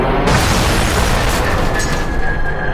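A missile explodes against a B-52 bomber with a loud, continuous roar of blast and rumbling debris that fills the whole moment at close range, with no voices.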